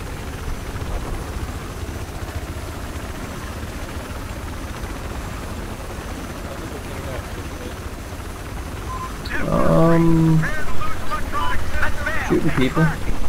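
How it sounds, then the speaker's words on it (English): A helicopter flying in the video game Battlefield 4 makes a steady rotor and wind roar throughout, with sharp tonal game sounds and a player's voice breaking in near the end. "Let me fill the chopper actually."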